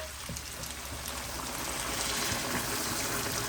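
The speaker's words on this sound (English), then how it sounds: "Now I'm adding in quite a lot of water to this." Water pours steadily into a pot of Fiji-style lamb shoulder curry, a close continuous splashing gush that swells slightly louder toward the end, with no voices.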